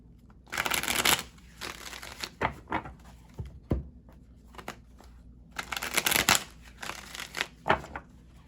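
Playing cards shuffled by hand close up, several brisk riffling bursts with short pauses between them and a sharp tap in the middle, quiet background and no talk.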